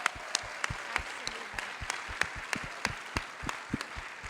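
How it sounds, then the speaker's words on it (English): Audience applause at a university startup pitch showcase: a run of loud, distinct, sharp claps at a steady pace, close by and without talk. "let's give a really, really strong round of applause to all of the non-finalists too"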